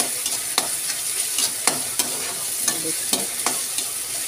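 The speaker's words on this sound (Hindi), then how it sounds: "अभी दोस्तों मैं लाल होने तक इसको चलाऊंगी" Soybean and potato curry being stirred and fried in a pan, with a steady hiss of sizzling broken by repeated sharp scrapes of the spoon every half second or so, close and moderately loud.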